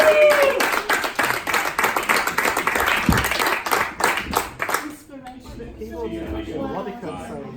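An audience at a charity Valentine's event claps after a talk about homelessness, dense close applause filling the room for about five seconds before thinning into scattered claps and murmuring voices.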